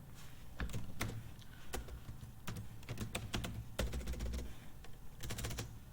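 Typing on a computer keyboard that has a fault makes rapid, uneven bursts of close key clacks and heavier thumps, continuous with brief pauses and no talking.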